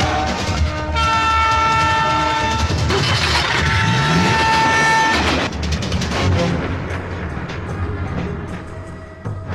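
A train rushes past in a film scene, loud and close, with a long sustained horn blast over the rumbling roar and clatter of the cars, fading slightly toward the end.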